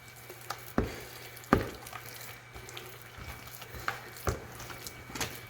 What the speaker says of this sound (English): get in there and knead it until you don't feel any salt